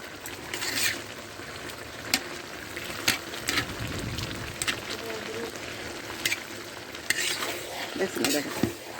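A spatula stirs milky bottle gourd shukto with prawns in a pot, giving repeated scraping strokes and soft clinks over a low bubbling simmer, close and fairly clear.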